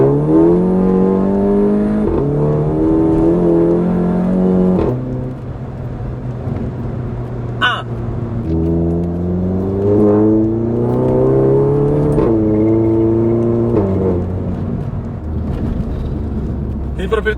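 Tuned Volkswagen Golf GTI 7 producing 340 hp accelerates hard, its engine note climbing in pitch through several gear changes, with brief dips between shifts; loud, close and continuous throughout.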